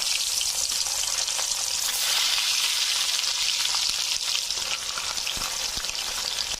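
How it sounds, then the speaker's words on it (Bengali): Rupali fish frying in hot oil in a wok, a loud continuous sizzle and crackle holding steady throughout with a few faint clinks, no voices. "রূপালী মাছের ঝাল রান্না করার জন্য কড়াইতে তেল দিয়ে দিলাম। হয়ে গেছে, রূপালী মাছগুলো ভালোভাবে ভেজে নেব।"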